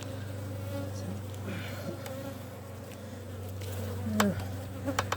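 Honey bees buzz around an opened hive of a thriving colony, a steady close drone with individual bees zipping past the listener, some louder passes near the end.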